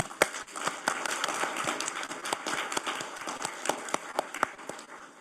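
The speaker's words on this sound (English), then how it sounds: "Please welcome them with a round of applause." Scattered applause from a modest audience at a G7 corporate governance roundtable, distinct individual claps building into a light, uneven patter heard fairly close and moderately quiet.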